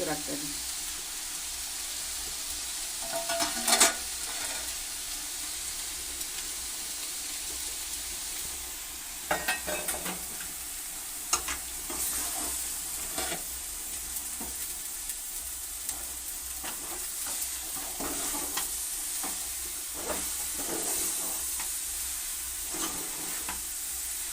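Meat frying in a pan, stirred as it cooks: a steady close sizzle runs throughout, broken by a few sharper scraping clinks of the spoon against the pan.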